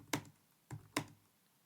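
A few separate, close keystrokes sound on a computer keyboard as a command is entered. There are three sharp taps with short pauses between them in a quiet room, and no one speaks.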